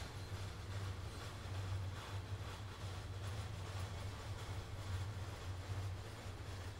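In Train Sim World 2, a train on the Arosa line rolls slowly toward waiting wagons, a steady low rumble with faint rhythmic wheel noise throughout.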